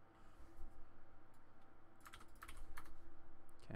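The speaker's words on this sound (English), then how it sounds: "Let's just type that." Keys clatter on a computer keyboard in a quiet room, a fast steady run of light taps that grows busier toward the end, close and alone.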